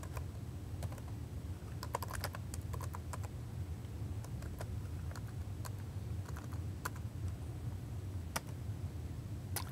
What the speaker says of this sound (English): if I go back to my emulator and I type this URL in